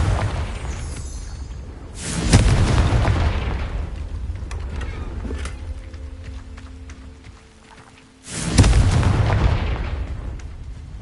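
The Confringo fire spell in Hogwarts Legacy, heard as two loud, booming blasts several seconds apart, each swelling suddenly and fading into a long rumbling tail.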